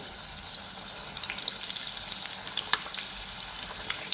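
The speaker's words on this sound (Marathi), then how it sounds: "खूप छान तपकेरी रंग येईपर्यंत त्याला तळून घ्यायचं" Pieces of leftover chapati deep-fry in hot oil until golden brown, a soft bubbling sizzle that grows busier after the first second, fairly quiet and close with no voices.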